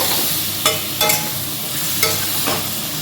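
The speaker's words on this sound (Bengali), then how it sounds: "এই মশলাটাকে এবার ভালো করে কষিয়ে নেব" Spice paste fries in a pan while being stirred, a close, loud sizzle with a few sharp scraping strokes of a spatula across the metal.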